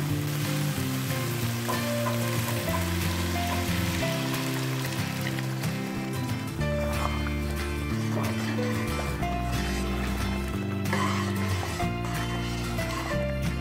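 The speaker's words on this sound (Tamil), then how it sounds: "எண்ணெய் நல்லா பிரிஞ்சு வந்துருச்சு இப்போ இந்த தாளை இதில் சேர்த்துடலாம்" Dal frying in oily masala for dal makhani, with a continuous close sizzle and crackle and repeated stirring scrapes of a spoon through the pan, no voices.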